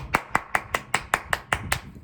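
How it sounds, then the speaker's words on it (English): Hands clap in a steady rhythm of about ten sharp, evenly spaced claps, close and distinct, cheering on a football defense. "Once again, hand clap for the defense feet."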